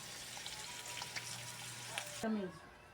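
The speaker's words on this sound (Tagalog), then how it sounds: "Tapos piprito din ako ng itlog saka ng tuyo." Eggs and dried fish fry in a pan, giving a faint steady sizzle with a low hum beneath. Near the end a short rising tone cuts in and the sizzle drops away.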